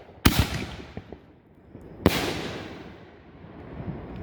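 Two sharp backyard firework blasts on the 4th of July, the first near 0.3 seconds and the second near 2 seconds. Each is loud and close, with a crackling tail that fades between them and a few smaller pops in the gaps.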